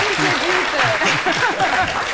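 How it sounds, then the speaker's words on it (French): Studio audience applauding a guest on a French-language midday TV talk show, steady dense clapping throughout with voices mixed in over it. "c'est un grand monsieur, on va l'applaudir encore"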